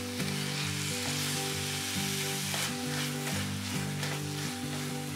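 Grated coconut and cardamom sauté in a pan for fresh coconut barfi, giving a steady, even sizzle that runs throughout with music playing underneath.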